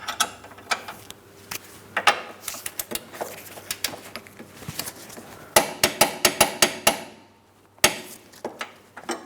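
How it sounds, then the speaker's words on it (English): A ratchet clicks in quick, uneven runs while tightening the front lower control arm hardware on a 2003-2007 Cadillac CTS, crisp and close, with a pause and a final short burst. "We're going to tighten each piece of hardware and torque it to 100 foot-pounds."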